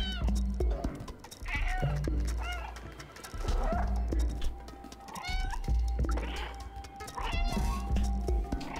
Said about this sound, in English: Let's just meow all the time.